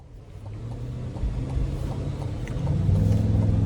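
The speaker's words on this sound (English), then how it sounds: "I love how aggressive and almost angry the exhaust sounds" Engine and exhaust of a 2025 Cadillac Escalade Sport Platinum in sport mode on a road test drive, heard as a steady low rumble that builds in loudness toward the end, with no voices.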